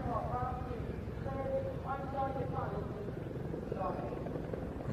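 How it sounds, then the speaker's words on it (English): A Chinook helicopter climbs and rotates at an air festival, its rotor thrum continuous and steady while a commentator talks over it throughout. "The Chinook starting the climb, and there's the rotation."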